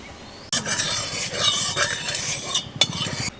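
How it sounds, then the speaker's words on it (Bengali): Mustard oil going into a hot wok for Bengali cholar dal gives a close, loud, steady hiss starting with a sudden burst. A few clinks and scrapes sound over the sizzle, and no one speaks. "কড়াইতে দিয়ে দেব সরষের তেল।"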